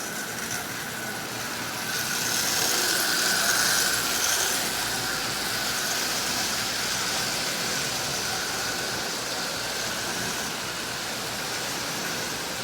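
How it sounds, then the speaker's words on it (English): A Marx 999 toy train locomotive with a double reduction motor, assembled from parts, runs its first trip around the rail with a steady whirring, rattling buzz that swells slightly then holds on. "So a Marx 999 with a double reduction motor. It's first trip around the rail."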